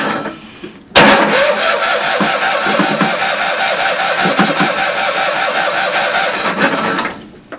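An old Cushman engine being cold started: a sharp catch, then a loud, close, sputtering run of uneven firing that goes on for several seconds before dying away.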